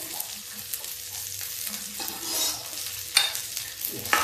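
Onion frying in a pan over high gas for ghughuri, a steady sizzle with scraping stirs from a spatula at close range.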